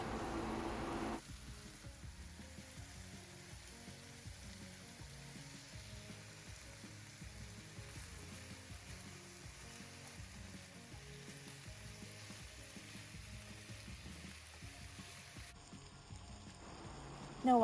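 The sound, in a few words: chicken frying and sizzling in a pan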